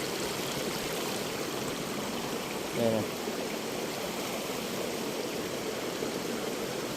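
A stream swollen after rain flows steadily nearby, a constant broadband rush of water with no breaks, and someone briefly speaks over it partway through.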